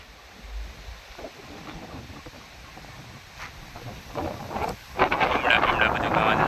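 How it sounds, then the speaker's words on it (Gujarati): Strong, gusty wind roars outdoors on an open, dusty stretch near a garden, swelling into louder buffeting blasts toward the end with faint voices under it. "પવન આજ બહુ છે, વાવાઝોડાની ઘોડે."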